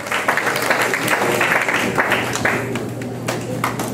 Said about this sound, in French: Let us clap your hands for the Lord.